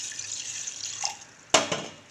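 Water is poured into a ground blend of pepper, cumin, coriander, green chili and garlic while making garlic rasam, a soft running hiss followed by two sharp splashes near the end.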